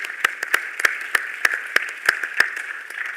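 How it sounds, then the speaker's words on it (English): Scattered applause for a speaker at a NATO Political Committee meeting on partnerships: a small number of distinct claps land at a loose, fairly even pace over a steady background hum in the room. "Let's give a round of applause to our speaker."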